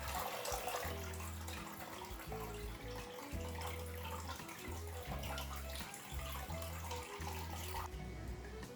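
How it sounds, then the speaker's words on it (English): Water runs and trickles steadily from a paper-making mold and deckle lifted out of a pulp vat, a close, quiet splashing flow with a faint tonal hum underneath. "Let the water drip out like this."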